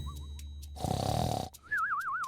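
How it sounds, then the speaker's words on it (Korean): A wolf snoring in a bedtime fairy tale, a loud rough snore lasting close to a second, set between soft musical tones with no voices. "늑대가 나무 옆에 누워서 코를 골고 있었기 때문에 가지가 떨리고 있었습니다"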